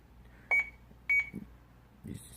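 A Welch Allyn 52000 automatic blood pressure monitor powering on gives two short, sharp electronic beeps about half a second apart, with faint handling clicks and soft room noise around them.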